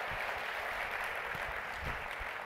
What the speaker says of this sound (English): Can we give her a big round of applause as she joins me?